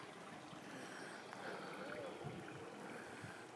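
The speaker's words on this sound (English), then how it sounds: "Well, it's a cute little creek." Small creek flowing through a spruce forest near Solheimslien, a soft continuous trickle and gurgle of water, faint and steady with light background ambience.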